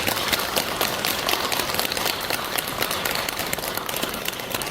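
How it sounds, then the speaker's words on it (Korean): A temple audience applauds the monk Jinwoo at the close of a Buddhist basic education session, dense sustained clapping from many hands filling the room without pause. "우리 진우 스님께 다시 한번 큰 박수 부탁드립니다."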